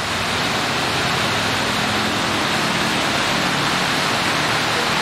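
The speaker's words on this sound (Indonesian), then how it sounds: "Ini hujannya semakin deras guys" Heavy rain pours onto a road as a bus descends a slope in a downpour, a dense, steady hiss filling the whole clip at close range with no pauses and no talk.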